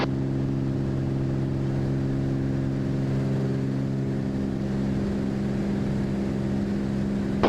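A small aircraft engine runs steadily at takeoff power during a night instrument departure, a loud, continuous drone with strong low harmonics that holds even throughout with no one speaking.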